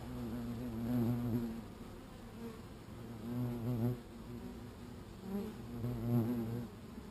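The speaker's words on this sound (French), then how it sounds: "c'est les abeilles qui se mettent autour du frelon" Honeybees swarm around an Asian hornet, producing a loud, close buzzing drone that swells and fades in repeated waves over a steady background hum, with no talk.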